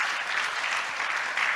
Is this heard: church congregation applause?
yes